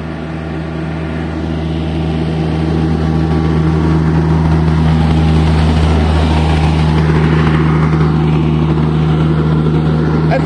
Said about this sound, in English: Why is there a car?